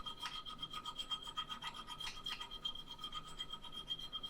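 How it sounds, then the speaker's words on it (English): A hand file rubs lightly around a drilled hole during a window modification, making quick, faint, rhythmic rasping strokes in steady back-and-forth repetition. "I'm just going to quickly rub the file, hardly at all around there."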